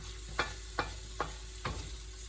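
Sac kavurma meat frying with onions: a steady sizzle under four scraping strokes of a utensil stirring the pan, evenly spaced and fairly quiet, with no talking.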